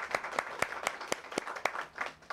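Applause for older adults in a parliamentary committee session, a small group clapping at a distance in a fairly quiet room, distinct separate claps in a loose, uneven rhythm.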